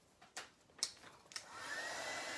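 A hair dryer blows steadily over rust paste on an old camera during a makeover, starting after a few light clicks and taps and building to a continuous close whoosh.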